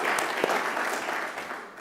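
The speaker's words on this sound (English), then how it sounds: "Let's give Fiona another round of applause as our Young Person of the Year in 2021." An awards audience gives dense, sustained applause for the 2021 Young Person of the Year at the Rising Stars Awards, a continuous wash of clapping that fades slightly toward the end.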